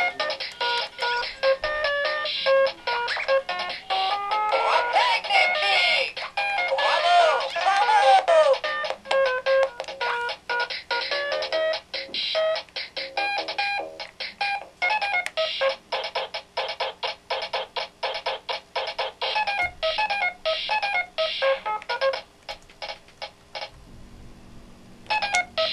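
A circuit-bent electronic sound toy poked with alligator clips glitches continuously, spitting rapid stuttering beeps, chirps and warbling tones in an erratic, dense stream, loud and alone.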